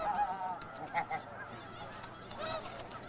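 Geese in an Arctic goose colony honk repeatedly in a steady, overlapping chorus, with a few louder calls standing out near and the rest carrying from farther off.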